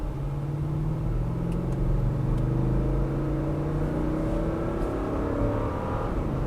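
A Lexus GX 460 SUV engine pulls steadily under moderate throttle, a continuous low rumble and whir rising gradually in pitch as the vehicle gains speed, without full acceleration.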